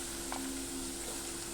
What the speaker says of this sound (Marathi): हे आपल्याला गुलाबी होईपर्यंत परतून घ्यायचं आहे।